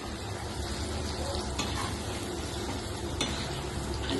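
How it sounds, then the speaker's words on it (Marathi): Peanuts and spices sizzle and fry in hot oil while being stirred, a steady close crackle with occasional scrape of a utensil against the pan. "शेंगदाणे, हे सर्व आपण सामग्री तेलामध्ये चांगलं आपण परतून घेणार आहोत"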